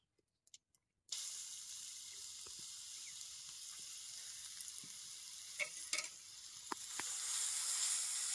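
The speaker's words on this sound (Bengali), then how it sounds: "এবারে ওর মধ্যে দিয়ে দেবো আমি গ্রেট করে রাখা গাজরটা।" Grated carrot hits hot ghee in a pan and bursts into a bright, steady sizzle after a moment of near silence, with a few soft clinks of stirring on top.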